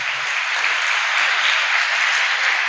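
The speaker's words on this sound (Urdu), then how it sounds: "فادر جی کے لیے ذرا زوردار تالیاں" A church congregation applauds loudly for the priest at a Sunday Holy Mass in St. Joseph's Parish. The clapping is dense, steady and even, filling the room without pause and with no voices over it.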